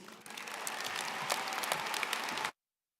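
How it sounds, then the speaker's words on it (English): A large commencement audience in an arena claps steadily for a few seconds to welcome the keynote speaker, a broad wash of applause that builds and then cuts off abruptly. "Please join me in giving a warm welcome and applause"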